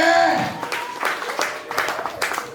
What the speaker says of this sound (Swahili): Mpigie makofi mazuri.